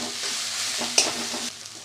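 Red amaranth greens cooked with poppy seed and peanuts frying in a pan, a steady close sizzle with a few soft scraping stirs and one brief clatter near the middle, no voices.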